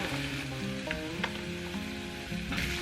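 Chicken stew simmering in a pot makes a steady close sizzling bubble with light clinks of a utensil, and no voices are present.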